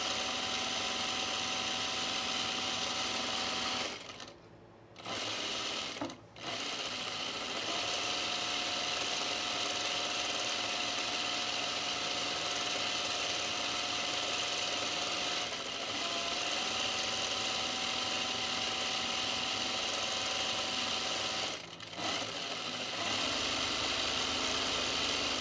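A sewing machine runs a second gathering row on a pin tuck sleeveless top, a steady mechanical whir that stops briefly twice early on and once more near the end.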